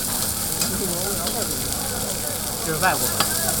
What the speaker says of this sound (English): Down the street, they're cooking a different meat-filled treat, this time fried.